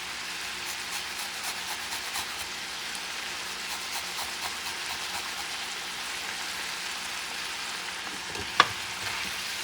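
Garlic cloves sizzle in a hot pan with a steady, dense frying crackle throughout, close and even, with one small clink near the end.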